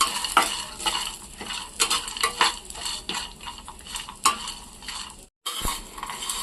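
Grated coconut with almonds is fried in a pan for coconut chutney, giving a soft sizzle under repeated scraping and clinking of a spoon against the metal, with a brief pause near the end.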